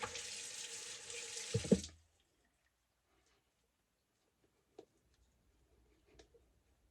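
Water runs from a tap in a steady gush for about two seconds while lathering shaving soap, then stops, leaving faint drips and small clicks in near silence.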